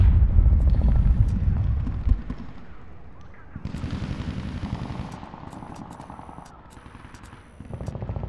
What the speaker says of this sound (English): Hellfire missiles are on.